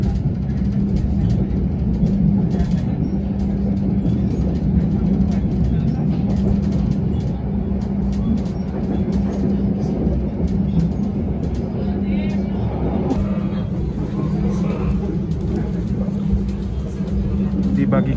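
The KA Harina passenger train pulls out of Cimahi station at night, a steady, loud rolling rumble heard from inside the carriage, continuous and even throughout.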